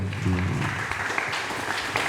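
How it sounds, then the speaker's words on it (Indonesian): Short burst of audience applause for Ustadz Mustahid at a Ramadan religious gathering, a brief wash of clapping that starts over a voice and fades within two seconds. "Tepuk tangan dulu dong"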